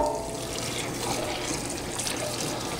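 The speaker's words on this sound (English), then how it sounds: "Now I'm just going to rinse this clean," Tap water runs steadily over a cast iron skillet, rinsing off soap in a sink: a continuous close splashing hiss with no pauses and no voices.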